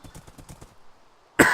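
A soft rhythmic patter fades out, then after a brief silence a single sharp, loud cough bursts out close by.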